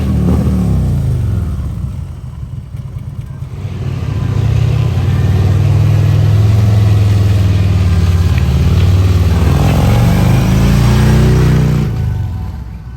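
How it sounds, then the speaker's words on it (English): A Davidson Audio shop motorcycle doing a burnout: a loud, close engine climbs to a sustained high-rev roar held for several seconds, then eases off, with no talking. "Mr. Nick did a pretty gnarly burnout first"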